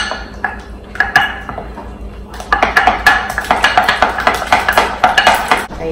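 Keto waffle batter with sweetener being mixed in a bowl, with rapid rhythmic clinks and scrapes of a utensil against the bowl that quicken and grow louder after a few scattered taps.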